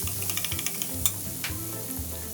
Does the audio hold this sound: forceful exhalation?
no